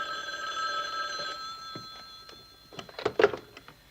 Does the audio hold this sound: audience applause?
no